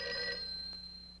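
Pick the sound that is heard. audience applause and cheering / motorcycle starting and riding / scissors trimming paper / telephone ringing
telephone ringing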